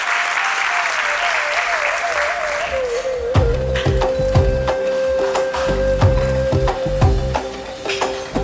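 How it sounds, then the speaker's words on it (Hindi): At a Lions Club Diwali function, a voice speaks briefly on a microphone, then the seated audience breaks into loud, sustained clapping to welcome a past president onto the stage. "हमारे क्लब के सभी मेंबर तालियों से स्वागत करें"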